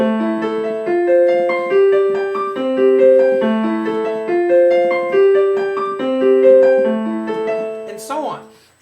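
Piano playing the syncopated opening figure of a song, a bright repeating chord pattern of clear, close notes, ending with a short voice at the very end.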